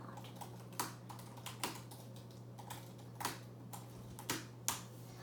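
Keys tap on a slim MacBook laptop keyboard in an irregular series of light, close clicks, quiet and alone over a steady low hum.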